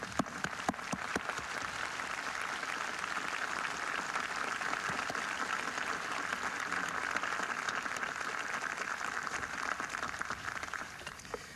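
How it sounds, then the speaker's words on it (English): Steady, dense applause from a large audience at the 1995 Wesleyan commencement ceremony for the graduating class, holding at an even level throughout with no speech. "to join me in honoring Joanne and applauding her success."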